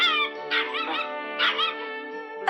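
A cartoon dog whimpers and yips in high, wavering tonal cries, several rising whines in a row, close and clear with no talk.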